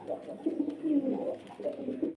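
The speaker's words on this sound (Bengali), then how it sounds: "আরেক জোড়া সাদা বোম্বাই কবুতর রয়েছে" White Bombay pigeons cooing close by, soft low throaty coos in two short bursts with a brief gap between them, faint and alone.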